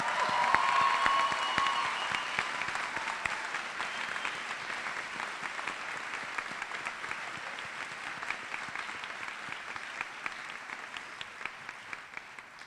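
Audience applause at the 2017 Utica Academy for International Studies graduation ceremony, a sustained wash of many hands clapping that slowly thins and softens, heard from some distance in a large hall.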